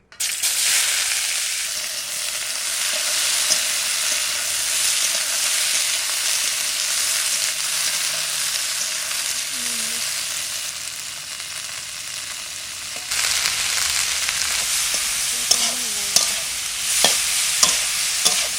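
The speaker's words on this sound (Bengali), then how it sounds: "উচ্ছেটা হালকা ভেজে নেব।" Bitter gourd frying lightly in hot oil gives a steady, loud sizzle throughout, with stirring scrapes and clinks of a utensil against the pan growing more frequent near the end.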